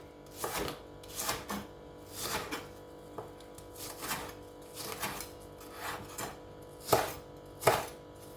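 A knife julienning spring onion on a cutting board, with steady rhythmic chopping strokes, several sharper louder cuts near the end, close and clear with no talk.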